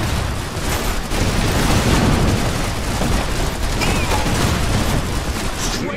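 Dense, continuous gunfire and explosions from the video game Iron Harvest, loud and unbroken throughout, with booming impacts layered over the constant shooting.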